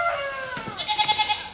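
A goat bleats on a homestead on vet day, a wavering nasal cry followed by a pulsing series of short quavering bleats, close and fairly loud with no talking.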